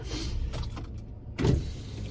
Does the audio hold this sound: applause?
no